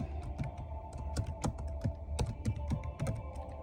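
Keys clack on a computer keyboard, including presses of the tab key, in a steady run of close, crisp taps with no one talking.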